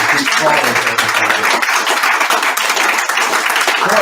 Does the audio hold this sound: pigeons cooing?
no